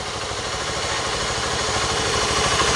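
A 2011 Honda Titan 150 motorcycle engine runs steadily near idle with a fault from low fuel pump pressure, producing a continuous close, loud mechanical hum with a faint uneven pulse.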